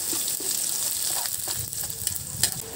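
Onions sizzle as they sauté in hot oil for a sweet and spicy squid dish, with steady crackling and intermittent stirring clinks at close range.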